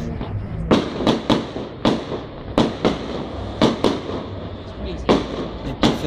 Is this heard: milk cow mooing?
no